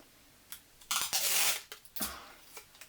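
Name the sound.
sellotape dispenser pulling tape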